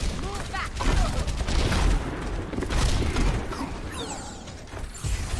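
Bastion's turret in Overwatch hammers out sustained rapid gunfire, swelling and easing in loud waves through a tournament match's mechanical clatter and booms, with a caster talking underneath.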